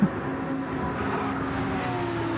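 A fast Ferrari race car running close behind in a race in Sardinia, its loud continuous engine roar holding steady and near for the whole moment.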